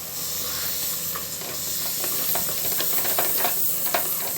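Meat and spices sizzle loudly in a hot pan, a constant frying hiss with occasional scraping stirs, close up and without any talking.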